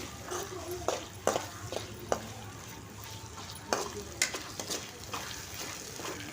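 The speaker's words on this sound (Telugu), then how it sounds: "ఈ టమాటా ముక్కలుని బాగా మగ్గేంత వరకు కలుపుకోవాలండి" Tomato pieces fry in a pan for a drumstick and moong dal curry, giving a low sizzle. Several sharp scrapes and knocks of a spoon stirring are spread through, and there is some background noise.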